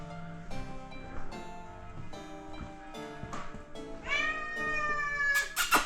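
A cat meows repeatedly and insistently, long drawn-out calls close by, rising toward louder, more urgent cries near the end.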